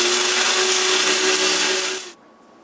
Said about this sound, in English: grind your celery into a powder